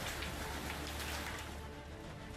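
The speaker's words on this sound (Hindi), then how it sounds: "वहीं जयपुर में बारिश के साथ तेज आंधी भी चली।" Steady, heavy rain pours down in Jaipur amid a strong storm, a dense, loud hiss of falling water filling the whole moment without a break.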